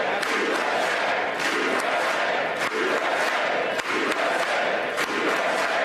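A large crowd chants "USA" in a rhythmic, repeated two-beat cadence during Trump's speech at the Capitol, loud and sustained with cheering mixed in.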